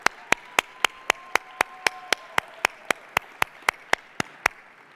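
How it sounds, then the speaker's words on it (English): Clapping at a chamber of commerce awards event: about eighteen crisp, evenly spaced claps that sound like a single pair of hands keeping a steady beat, with a faint tone beneath. "Another round of applause."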